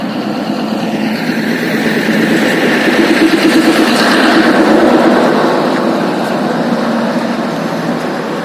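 A train runs through Baramulla in Jammu and Kashmir, with a loud, steady rumble and a whining engine drone that swells slightly midway. There are no voices over it.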